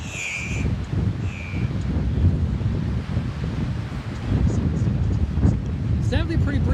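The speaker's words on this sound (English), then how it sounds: "It's definitely pretty breezy" Steady breezy wind buffeting an outdoor microphone at a SpaceX rocket launch site, a continuous broadband rush with a faint voice underneath near the start.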